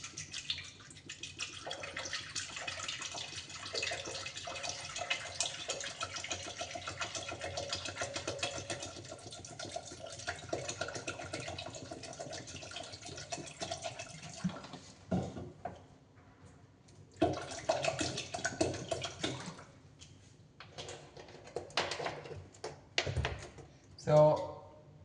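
Tap water runs steadily into a pot holding potatoes for aloo paratha, a continuous rushing stream that stops, then comes back in shorter splashes and clatters while someone talks throughout.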